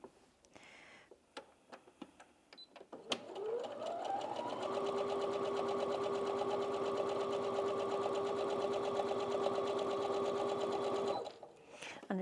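A Brother Innov-is NV1800Q sewing machine stitches a straight seam along a quarter-inch guide. A few soft clicks come first, then a fast, even mechanical whirr starts after about three seconds and runs close and steady for about eight seconds before stopping.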